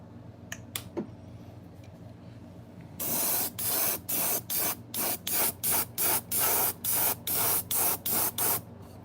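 An airbrush sprays transparent sand paint onto a fishing lure as an underlay coat for camo, in a run of short, loud, evenly spaced hissing bursts after a couple of faint clicks, with no talking.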